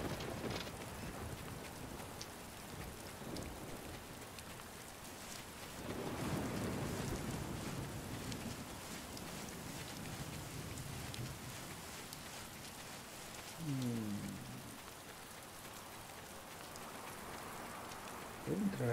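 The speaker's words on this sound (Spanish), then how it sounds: "Ya sé que está lloviendo" Rain falling in the video game Last Day of June, a soft continuous patter with a faint swell partway through and low ambient rumble throughout.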